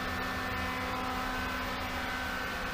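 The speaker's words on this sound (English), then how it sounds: "Listen to the sound of the motor." A variable speed pool pump motor of about 1.5 kilowatts runs at raised RPM, giving a steady, even hum with a faint whine that holds level and unbroken throughout.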